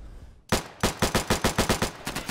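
AK rifle firing in the video game Insurgency, a rapid burst of about a dozen loud, close, evenly spaced shots with a brief pause before the last few rounds.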